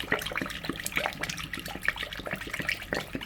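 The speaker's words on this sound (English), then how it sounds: "It's doing exactly what sponge filters do. It's glugging a hell of a lot though." An air-driven hygger sponge filter in an aquarium glugs and bubbles close by, with uneven bursts of gurgling water and no voices.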